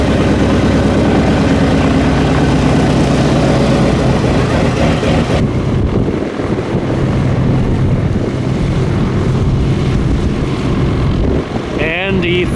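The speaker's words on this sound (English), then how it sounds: "there goes the first engine" The four-engine B-17 bomber Sentimental Journey, at the War Eagles Air Museum, starts an engine and keeps it running. A loud, continuous rumbling drone is heavily buffeted by wind noise for the whole stretch.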